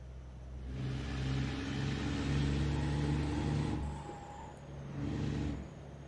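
A loaded long Dryvan XL truck in a heavy-haul driving game, hauling a Durango: a steady low engine drone with rough clattering, a thin squeal rising in the middle, then a brief quiet gap before another short burst of engine noise.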